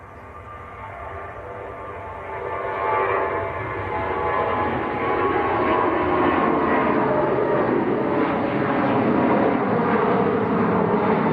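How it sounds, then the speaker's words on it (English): A Ryanair airliner bound for Belfast rolls down the runway at Manchester Airport on its takeoff run, a broad engine roar that builds after a few seconds and then holds steady and loud. "Ryanair to Belfast on the roll."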